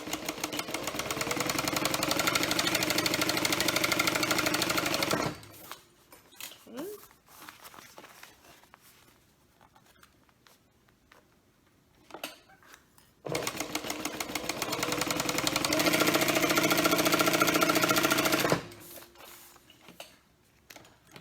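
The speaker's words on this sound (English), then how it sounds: "We stitched along the top and the bottom." A sewing machine stitches a quarter-inch seam along the top and bottom edges of fabric in two long, steady whirring runs, close and loud, separated by a quieter pause of fabric handling and small clicks.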